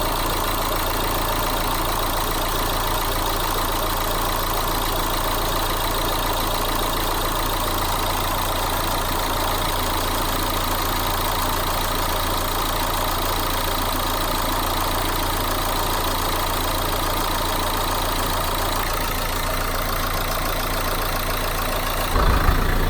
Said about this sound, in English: So now I'm gonna turn the engine, and we'll see if we have any more leaks.